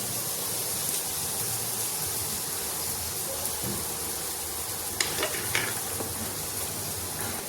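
Chopped spinach, tomato and onion go into a hot frying pan for a Bengali chana palak dal, a steady close sizzle with a few sharp clatters of stirring near the end and no talk.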